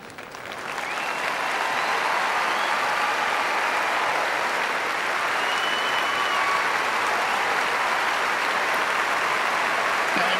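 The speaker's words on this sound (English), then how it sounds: "And a terrific reception for Venus from this very appreciative crowd." Sustained applause from the Wimbledon crowd for Venus Williams at a 2000 quarter-final, swelling quickly to a steady, loud, even wash of clapping that holds without a break.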